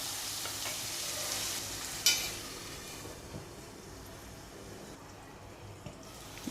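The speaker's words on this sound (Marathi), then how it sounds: "एक टोमॅटो बारीक करून घेतला तो घालून टोमॅटो थोडासा नरम होईपर्यंत शिजू द्यायचा" Chopped tomato softening in a covered pan over low gas for a Malvani mixed vegetable curry: a faint, steady sizzle and stir with one sharp clink of a utensil partway through, no talking.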